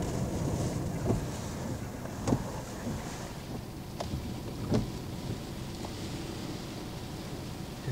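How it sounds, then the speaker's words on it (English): Hurricane Isaac winds in Galliano, Louisiana, rushing steadily at night, easing but never calm, with a continuous broadband roar and occasional faint knocks and rattles. "the wind is flirting with a calm. It's trying to calm down, but it can't quite."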